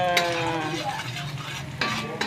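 Shrimp fried rice with cut long beans, egg, anchovies and shallots stir-fried in a pan: steady close sizzling with scraping and clinks of a utensil against the pan, continuous throughout.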